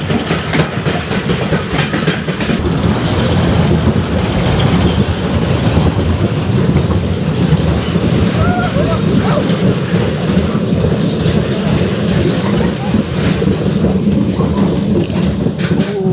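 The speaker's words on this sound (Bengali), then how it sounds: "চলে আসলাম রোলার কোস্টার রাইডটা এনজয় করার জন্য।" A roller coaster running on its track, a loud, steady rumble with rattling clatter that continues throughout, close by and without pause.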